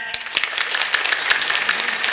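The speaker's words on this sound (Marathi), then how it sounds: "बसलेले सगळे एकदा जोरात टाळ्या वाजवा बघू" Seated audience at a devotional kirtan gathering clapping loudly together, a dense, continuous burst of applause with sharp hand strikes, close and steady throughout.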